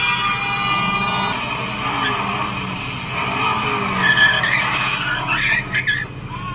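Ford Mustang GT350 tires skidding and squealing on pavement, played back from a clip, with a steady engine roar and sustained tire screech that grows rougher and more broken toward the end.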